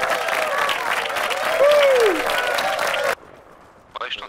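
A burst of player applause and cheering in the video game Arma Reforger fills the first few seconds, loud and dense, then cuts off abruptly, leaving quiet with a brief voice.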